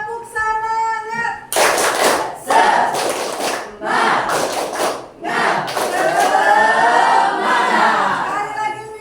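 A classroom of students doing the tepuk semangat spirit clap, with loud rhythmic group clapping bursts and chanting voices, preceded by a single voice and broken by short pauses.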